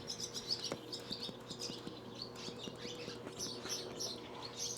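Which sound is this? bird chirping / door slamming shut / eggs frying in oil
bird chirping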